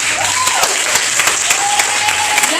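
A church congregation at a Sunday service applauds steadily and energetically, dense clapping filling the room at close range, with a few voices rising faintly beneath it.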